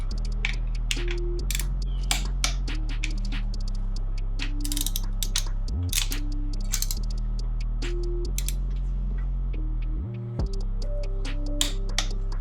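A torque wrench ratchets while bolts are tightened on a Subaru STi engine during a build, sharp repeated clicks in short bursts over a low steady hum from a nearby machine, up close and with no speech.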